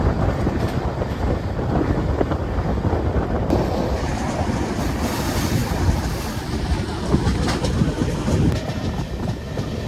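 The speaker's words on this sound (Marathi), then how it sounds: "कोकण रेल्वेचा प्रवास" Konkan Railway passenger train travelling in the monsoon, a steady loud rumble of wheels on track with faint clickety-clack and wind rushing past the open door, continuous throughout.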